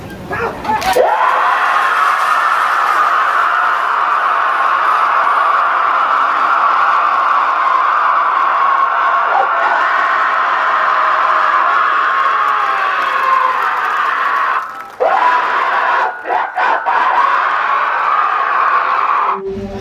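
A crowd at a bullock cart race shouts and roars, a sustained loud mass of voices from many people, with a few sharp knocks and a brief dip near the end.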